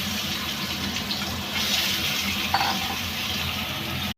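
An egg fries in hot oil in a pan for a spiced egg curry, producing a continuous close sizzle with faint watery crackle and no voices.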